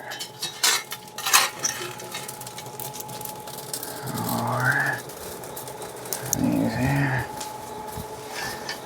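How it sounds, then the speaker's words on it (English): Hot coals being shoveled from an offset fire into a BBQ hotbox: scraping, clinking metal-on-coal bursts in two main passes, close and moderately loud, with crackling of the fire between. "Just shovel them on there."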